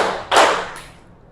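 A classroom of students claps in unison in a counted pattern, one loud broad burst of hand claps followed by a fainter second one, fading into quiet.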